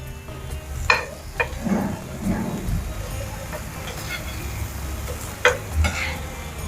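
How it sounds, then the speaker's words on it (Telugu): An egg roti pizza fries in a pan after being flipped, giving a low steady sizzle with a few sharp scraping and stirring clicks over the top; voices murmur faintly in the background. "తర్వాత రెండో సైడ్ తిప్పాలి కొంచెం ఫ్రై అయితే సరిపోతుంది అంతే"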